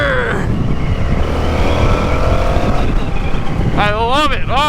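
A 2023 Indian FTR R Carbon motorcycle engine under way, a loud steady drone with rising and falling revs and wind rush, and a voice talking over it near the end.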